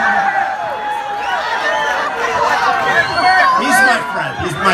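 A large crowd murmurs and chatters at a Donald Trump rally in Franklin, Tennessee, a steady babble of many voices with occasional louder shouts rising from the hubbub.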